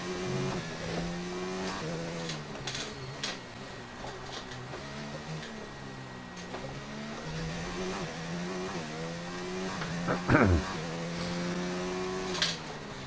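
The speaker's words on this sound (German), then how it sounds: "das Auto hält sich vernünftig auf der Strecke" An F1 race car in the video game F1 2019 drives around a track in Spain, its engine a steady, rising and falling whine that holds through the clip, with a brief louder burst near the end.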